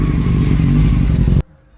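A Honda CBR600 sport motorcycle engine held at high revs, apparently stuck near 7,000 RPM with a fault blamed on its coil packs, roars loud and steady close by, then cuts off abruptly near the end.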